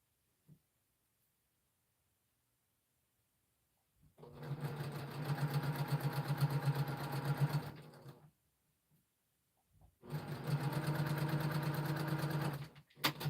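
A sewing machine stitches quilt block pieces together in two runs of about four and three seconds, a fast, close, humming mechanical whir with silence between and a brief click near the start.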